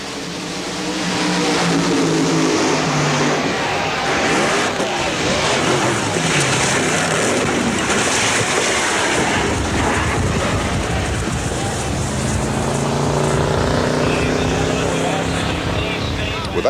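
Funny car drag racing engines roar at the 1985 NHRA Cajun Nationals, a loud, sustained, rising blast of revving that fills the whole stretch, with a commentator talking underneath.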